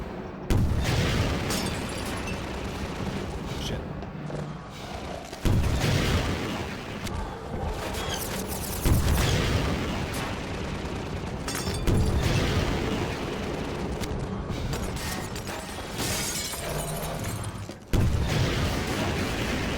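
Rockets exploding in the video game Half-Life 2, with several heavy booming blasts at irregular intervals over a dense, continuous bed of loud combat noise.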